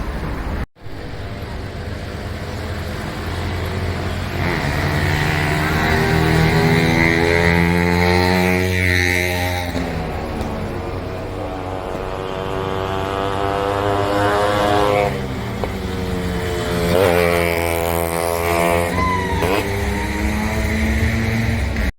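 A vehicle engine drones steadily on a drive through the Yercaud hills, its pitch rising and falling with gear changes and throttle, loud and continuous throughout.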